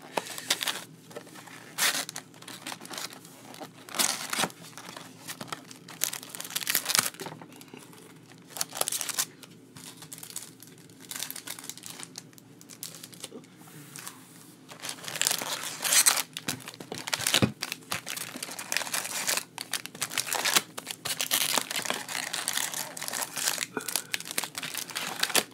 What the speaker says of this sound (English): I'm gonna shuffle it sort of off screen